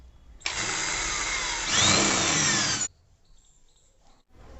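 An electric drill fitted with a 3.5 soot bit bores into HDHMR board, a loud steady whine lasting a couple of seconds that strains slightly mid-cut before stopping abruptly.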